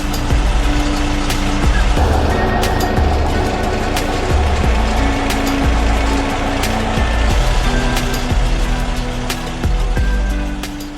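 A rebuilt VW bus engine on its test run, running loudly and continuously up close with a steady rumbling idle and a few slight swells in revs, and no voices heard.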